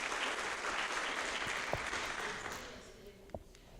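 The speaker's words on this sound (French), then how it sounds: "Il y a des applaudissements là" Audience at a public assembly clapping, a dense burst of applause that gradually thins and fades, with a few isolated claps and faint voices near the end.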